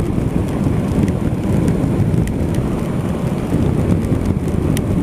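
Steady rain and wind roar continuously around a motorcycle riding a straight road in Turkey between Bayat and Sivrihisar, a dense low rushing wash with faint rain ticks on top and no voices.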